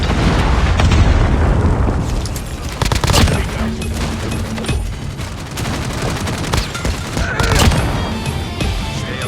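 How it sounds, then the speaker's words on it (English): Call of Duty Mobile multiplayer combat with a Predator missile strike: dense, continuous gunfire and heavy booming explosions, loud and close throughout. "Hostile Predator missile inbound."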